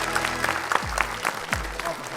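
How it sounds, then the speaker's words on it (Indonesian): Brief studio audience applause on an Indonesian Dr. Oz TV health show, with a host speaking over the clapping. "Ternyata tepuk tangannya membawa berkah ya."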